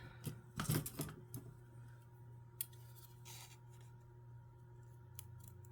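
Scissors cutting thin corrugated cardboard pieces for a boxes project, with a few faint snips and crisp crunches clustered near the start and a couple of scattered ones later, heard close against a quiet hum.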